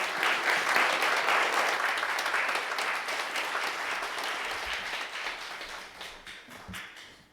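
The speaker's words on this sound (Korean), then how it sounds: "우리 큰 박수로 환영했으면 좋겠습니다" Congregation in a church gives sustained applause to welcome a pastor at an anniversary service, dense clapping that is strongest at first and slowly fades over several seconds.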